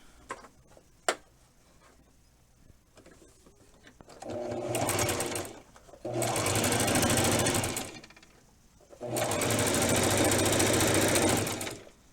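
Sewing machine running a straight stitch through layered fabric for a doll dress, a few faint clicks and a thump, then three loud sustained bursts of fast rhythmic whirring separated by short pauses.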